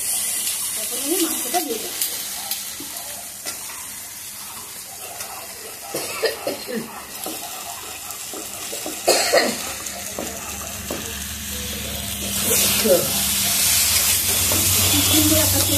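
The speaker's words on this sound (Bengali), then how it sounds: "এখন আমি মাংসটা দিয়ে দিই" Chicken meat dropped into hot spiced oil, a rising sizzle that grows loud and steady toward the end after earlier clattering, a cough and some speech.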